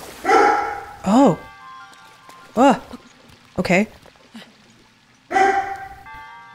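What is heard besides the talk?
dog barking in the background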